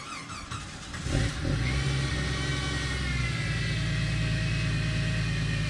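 A Jeep YJ engine with a fault cranks and catches, then settles into a loud, rough, droning idle with a harsh rattling, uneven tone, close by and with no talk.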